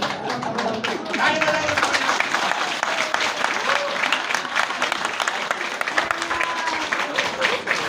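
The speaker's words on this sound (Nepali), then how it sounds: "हामी सबैजनाले ताली बजाउनेछौँ" Wedding guests at a Christian marriage ceremony in mid-western Nepal applaud as the veil is lifted: a dense, steady burst of clapping from a crowd that fills the whole stretch, with voices mixed in underneath.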